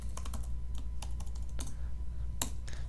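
Fast, irregular keystrokes on a computer keyboard at a desk, a quiet patter of clicks with short bursts and pauses, close and alone with no voices.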